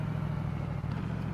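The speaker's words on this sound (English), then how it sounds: "Engines, cars that sound like Angry Dog Simulator" Car engines in a Roblox video game give a steady, low, rumbling drone that holds at an even level without a break.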